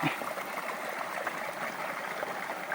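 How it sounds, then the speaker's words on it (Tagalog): A clean, continuously flowing forest creek rushes and burbles steadily, a dense, even wash of water heard up close with no pauses. "sarap maligo sa ganitong sapa malinis tuloy tuloy ang daloy ng tubig"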